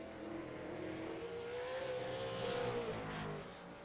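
Super Late Model race cars roar around the South Boston track, engines droning and swelling steadily at a distance, with one engine's pitch rising as it gains on another.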